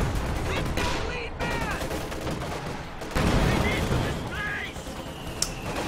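Artillery shells land amid constant battle noise in Company of Heroes 2: a dense, loud wash of gunfire and booming impacts with bursts of rattling fire, under a commentator's talk.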